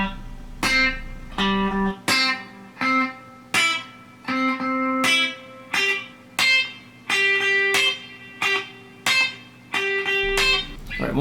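An electric guitar plays a country lick over a basic train beat, a chain of twangy, slightly driven notes in choppy rhythmic bursts over a steady low pulse, close and without talking.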